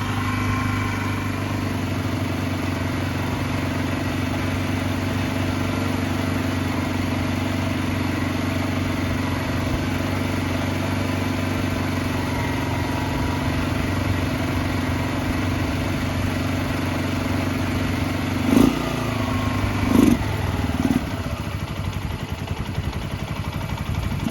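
A 2005 Suzuki GZ250 barn-find motorcycle idles steadily while warming up, a low, even engine drone running throughout, with a couple of brief louder blips or clunks near the end.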